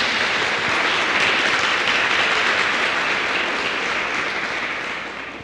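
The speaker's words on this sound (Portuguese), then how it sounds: "dê uma salva de palmas ao que vive." A church congregation standing and applauding during an evening worship service, a loud, dense wash of clapping that holds steady and then begins to fade at the end.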